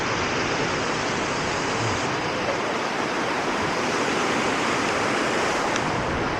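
The waterfall at Johnston Canyon roars in a loud, constant wash of falling water, a broad, unbroken rush heard close by with no voices over it.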